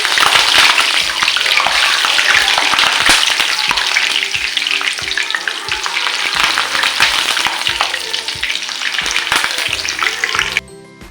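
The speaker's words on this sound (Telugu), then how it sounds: "పచ్చిమిర్చి కూడా ఫ్రై చేసేసుకున్నాం కదా." Green chili slices fry in hot oil with a loud, continuous crackling sizzle, up close, with occasional stirring clatter and an abrupt cut near the end.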